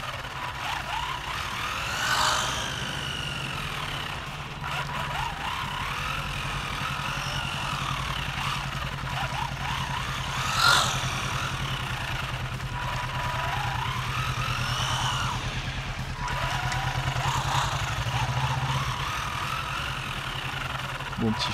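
A WLTOYS 144001 RC buggy drives and drifts, its small electric motor whining in rising and falling sweeps as it speeds up and turns, fairly close, with a steady low hum and a person talking over it.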